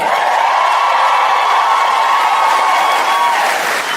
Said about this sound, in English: thank you for cheering for that part